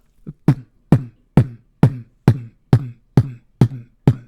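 A voice imitates a kick drum with nine evenly spaced, punchy low thumps in a steady rhythm, close to the mic.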